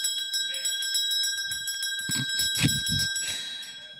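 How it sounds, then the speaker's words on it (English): Bells ring out at a Rainbow Six European League 2021 grand final between Team BDS and Team Empire, marking the start of map three. Bright sustained ringing tones persist over crowd and venue noise with brief low thumps. "There are the bells. There they go."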